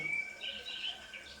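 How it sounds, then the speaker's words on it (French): Small songbirds such as robins and tits sing outdoors, a faint, steady scatter of thin high chirps and short trills with no talking. "Peut-être reconnaissez-vous le chant des rouges-gorges, des petites mésanges"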